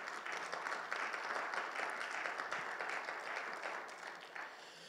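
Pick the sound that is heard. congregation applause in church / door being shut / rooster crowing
congregation applause in church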